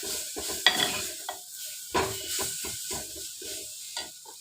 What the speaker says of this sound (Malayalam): നമുക്ക് നല്ലോണം റോസ്റ്റ് ചെയ്തെടുക്കാം.